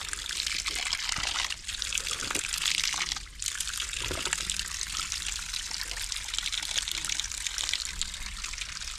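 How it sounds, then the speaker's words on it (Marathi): Water trickling and gushing steadily from an outlet beside a road, a continuous close hiss of flowing liquid with no clear talk over it. "हे बघा ह्याच्यातून पाणी येत आहे ते तुम्हाला दाखवतो"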